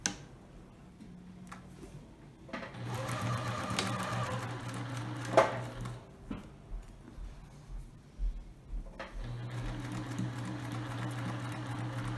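A sewing machine stitching the corners of a small fabric ring bag runs in two steady whirring bursts with rapid ticking, separated by a quieter pause with faint handling clicks.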